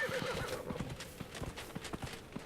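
Horse hooves clip-clopping in a steady rhythm with a loud whinny near the start, from a ridden horse in the video game Dragon Age: Inquisition, set in the Hissing Wastes desert.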